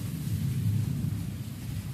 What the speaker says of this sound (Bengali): মেঘ ডাকছে, গুম গুম গুম গুম আওয়াজ হচ্ছে, মেঘ ডাকছে।